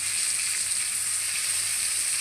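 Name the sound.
pakoras of sponge gourd frying in oil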